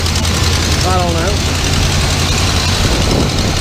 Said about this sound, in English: Sounds like a little bit of an exhaust leak or one of them air tubes is leaking.